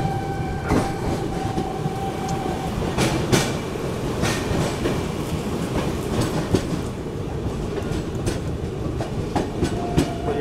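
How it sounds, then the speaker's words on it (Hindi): A Seemanchal Express with ICF Utkrisht coaches runs close by, its wheels clattering in a steady clickety-clack over a loud, continuous rumble. "सामने ICF ट्रेन जा रही है और अपनी LHC ICF अपनी साथ जा रही है"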